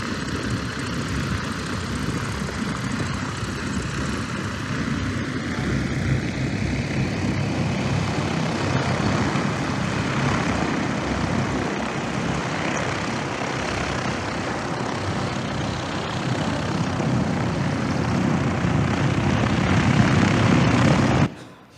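A small aircraft built on a Lancer airframe with an RDD LX7 wing and off-the-shelf motors flies by in a steady, loud propeller and motor whine that drones continuously throughout, with no voices.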